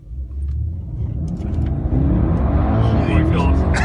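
A Mercedes accelerating hard from standstill, heard from inside the car as a deep engine rumble that rises and grows louder over a few seconds, with people talking over it.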